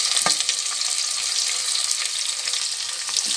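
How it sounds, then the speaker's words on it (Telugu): Sliced onions and green chillies fry in oil for a chicken cooker biryani, making a bright, continuous sizzle that stays loud and close, with a few soft clinks from the pan. "మనకి ఎర్రగా ఫ్రై కావాలి ఉల్లిపాయలు"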